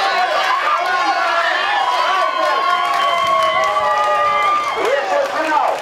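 Sports fans cheer at a cheerleading and tug-of-war competition, a lively crowd roar with shouts and whistling voices running continuously under a narrator speaking over it.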